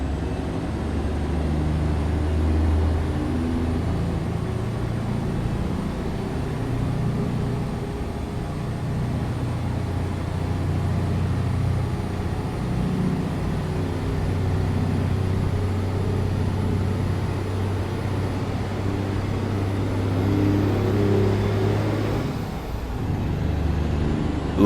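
A Peterbilt 359 truck in American Truck Simulator, its engine droning steadily and loudly with a low rumble and rising turbo whine throughout, swelling near the end.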